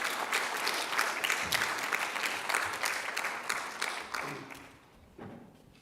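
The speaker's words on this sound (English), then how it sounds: "you all deserve a round of applause for you guys" A conference audience at an opening plenary claps in sustained, moderately loud applause that tapers off and fades out near the end.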